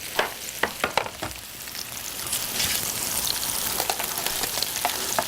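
Salmon searing in a pan with fennel, a dense, close sizzle and crackle with a few sharp spatters and turning taps early on, holding steady throughout with no speech.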